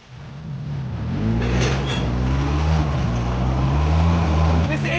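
ATV pulling a heavy log toward a sawmill labors with a steady, loud low engine drone close by, rising at the start and holding under strain, with occasional clunks over the rumble.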